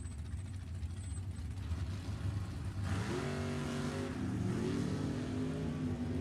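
A drag racing car accelerating down the strip at an NHRA Summit Racing Series Division 7 E.T. Finals event, a distant engine rising into a loud sustained roar as it climbs through the run.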